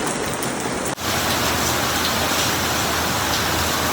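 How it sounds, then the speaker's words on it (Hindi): Heavy rain pours down in a village on Shivratri, a dense, loud, continuous hiss of drops with one brief dropout near the start before the downpour resumes just as strong. "देख रहे हो कितनी तेज बारिश हो रही है।"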